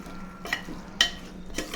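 Boiled chickpeas are stirred in a pan: a few crisp metallic scrapes of a spoon come about half a second apart over faint background noise, with no voices.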